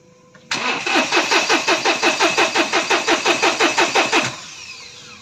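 Starter on a Mahindra Bolero Power Plus cranks the engine in a steady rhythmic churn of about sixteen loud, even pulses over four seconds, then cuts off without the engine catching; a fuel pump fault is suspected.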